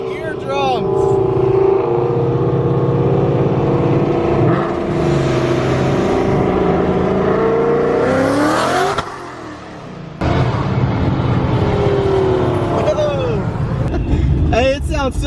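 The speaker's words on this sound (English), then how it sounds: "Everybody's doing a little bit of burnouts over there" Loud car engines rev hard during burnouts at a turkey rod run, screaming up and down in long pulls with a brief lull before another roaring run, while people talk and react nearby.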